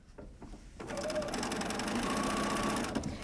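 A sewing machine stitching fabric pieces along free-form curves: a few soft handling sounds, then a steady, loud mechanical whirring hum that runs continuously to the end.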